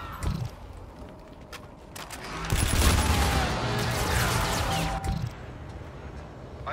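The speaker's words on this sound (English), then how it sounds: "Friendly warden airstrike. Use. Roger, inbound for gun run." A friendly airstrike gun run in a multiplayer shooter game opens with scattered shots. A long, loud burst of rapid cannon fire swells in the middle, then tails off into more scattered pops.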